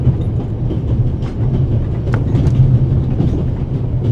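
Orient Express train from Paris to Istanbul running in the video game The Raven, a continuous rolling rumble with steady wheel clatter and faint metallic clicks, heard alone.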